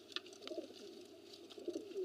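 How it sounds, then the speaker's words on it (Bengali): Soft, low cooing comes from deshi gola pigeons kept in a loft, repeated murmuring coos sounding close but faint over a quiet background. "এইগুলো দেশি গোল্লা, দেশি গোল্লা কবুতর"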